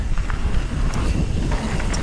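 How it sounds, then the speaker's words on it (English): Wind buffets the microphone on a mountain bike trail at Swinley, a low, rough rumble that carries on throughout. A few faint sounds of riding movement come through under the gusts. "It's like this location is just constant wind all the time."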